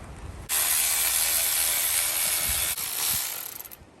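An electric wrench running on a Mercedes-Benz M103 engine during a turbo install, a loud, dense whirring burst lasting about three seconds with a brief dip midway, then trailing off in rapid clicks.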